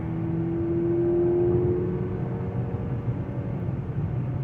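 A 2019 Chevrolet Impala LT with a 2.5-liter four-cylinder engine accelerates smoothly, its steady mid-level drone rising in pitch over a constant road rumble with no voices.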